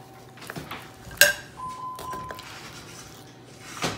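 Freezer meal ingredients being mixed together in a bowl, with a few scrapes and one sharp clink of a utensil against the bowl, then quieter shuffling and a final brush of movement, all without talking.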